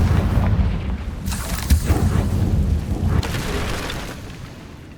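Confringo blasting-spell explosions in Hogwarts Legacy rumble with deep booms, a sharp burst near the middle and another a little later, then decay into a fading roar.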